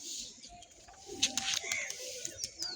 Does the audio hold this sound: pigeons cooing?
yes